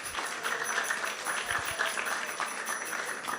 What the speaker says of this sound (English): So let's give a big round of applause to everyone who has joined us here.